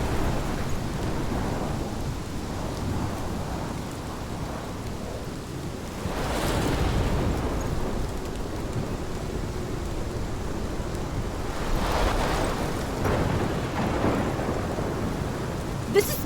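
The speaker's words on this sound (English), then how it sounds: "This is my storm." A thunderstorm in Life is Strange rolls on with steady heavy rain, deep rumbles of thunder swelling around the middle and again near the end, with no voices.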